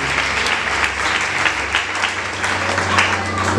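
Congregation clapping hands in a church worship service, a dense steady wash of applause running throughout with low hum and voices mixed underneath.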